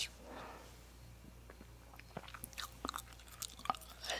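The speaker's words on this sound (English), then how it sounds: "As you can tell by the gum chewing," Gum chewed right against a very sensitive close microphone, giving soft wet smacks and clicks in an irregular rhythm over a faint steady hum, intimate and quiet with no talking.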